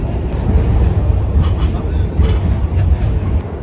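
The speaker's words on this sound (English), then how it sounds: "This is like the furthest that the path train from New Jersey to New York goes." A PATH train running between New Jersey and New York rumbles steadily with a loud low-frequency roar throughout, with speech-like voices faintly mixed in.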